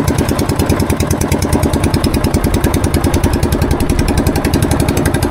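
A fishing boat engine runs loud and close on a trip after giant trevally, a steady rapid chugging drone with no pauses and no voices.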